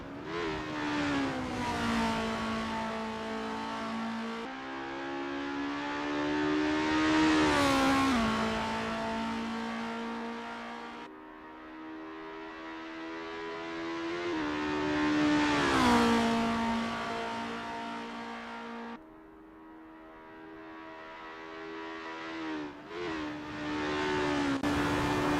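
An Estonia-25 formula race car engine in Assetto Corsa revs hard through repeated gear changes, its pitch rising and dropping sharply over and over as it accelerates through a practice session.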